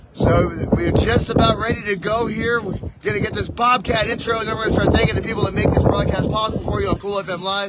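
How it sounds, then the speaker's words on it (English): Gusting wind buffets a bare microphone at an outdoor high school football broadcast, low rumbling bursts running under a continuous announcer's voice throughout. "It is a little windy today, and we're going bare bones, so folks, bear with the audio."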